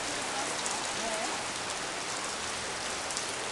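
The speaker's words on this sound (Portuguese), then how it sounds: "a chuva tá um pouco, não tá tão grossa" Fairly heavy rain pours down outdoors during a cultural fair day, a dense, even hiss of drops striking surfaces that holds steady and close throughout, with no talking.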